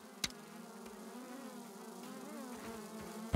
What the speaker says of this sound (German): Hier sind so viele Fliegen und ich treffe die nicht.